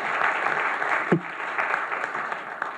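Applause at the closing plenary of APrIGF and TWIGF 2024 in Taipei: a steady, moderately loud wash of clapping from the audience, with one brief thump partway through.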